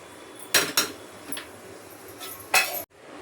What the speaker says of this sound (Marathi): 2 मिनटं झाकण ठेवते आणि काढून घेते मग.